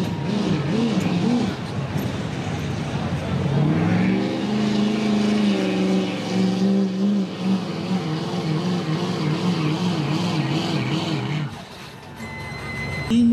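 A pulling truck at a truck and tractor pull, the Steam Machine Dodge, roars down the track with a loud sustained engine drone, pitch climbing and wavering as it revs under load, then cutting off briefly before revving again.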